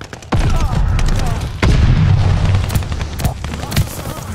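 Loud booming grenade blasts and rattling gunfire in Call of Duty Vanguard combat, with two heavy explosions followed by dense bursts of shots, close and punchy, with a voice heard over part of it.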